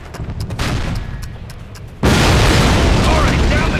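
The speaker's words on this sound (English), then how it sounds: "This cannon's about to go boom!" A cannon going off in the World War II shooter Call of Duty, Brecourt Manor mission, a sudden loud booming blast about halfway through that leaves a sustained roaring rumble after quieter battlefield ambience.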